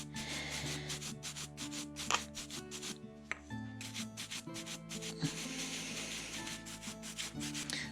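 Brush buffing wax onto a devil's toenail fossil, quick repeated rubbing strokes in steady bursts, close and clear over faint background music.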